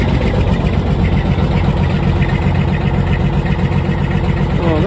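A pickup truck's diesel engine idles steadily after a cold start in winter, a loud, close, continuous rumble with an even mechanical churn and no pauses.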